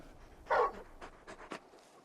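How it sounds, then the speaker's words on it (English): Torgal, a very large dog in the video game Final Fantasy XVI, pants in a few quick, close breaths after one louder huff, fairly soft against a quiet background. "You're just a big puppy, aren't you? A very big puppy"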